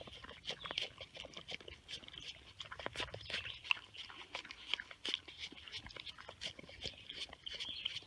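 Dog named Cookie chewing and eating coleslaw at a campsite, close, soft wet crunching and smacking bites in an uneven rhythm, fairly quiet with occasional light sounds around it.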